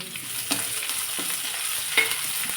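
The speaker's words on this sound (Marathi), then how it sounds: "इथे मी एक प्लेटभर चिरलेला कांदा घालते तेलामध्ये कांदा भाजून घालायचा" A plateful of chopped onion fries in oil as it is stirred, giving an even, close sizzle broken by a few spoon scrapes against the pan.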